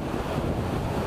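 Waterfall at Cachoeira da Torre, a dense, loud, continuous roar of falling water with heavy low rumble and wind buffeting on the microphone, no voices.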